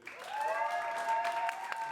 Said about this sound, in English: If you'd like to see Moulin Blue, applaud now.